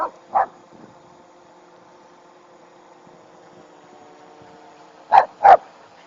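Dogs bark near a landing FPV drone: one short bark at the start, then a quick pair of loud, close barks near the end, over a faint steady engine-like hum.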